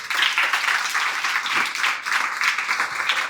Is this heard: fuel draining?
no